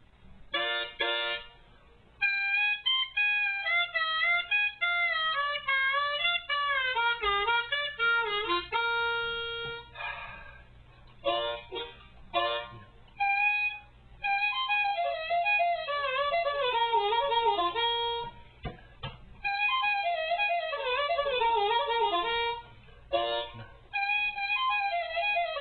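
Harmonica lick played alone, with bent notes and upward slides in several quick phrases separated by short pauses, fairly loud and close.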